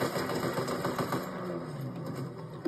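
A motorcycle engine in a video game runs as a steady, mid-pitched drone with a continuous buzzing rumble, holding close and fairly loud for a couple of seconds with no talk over it.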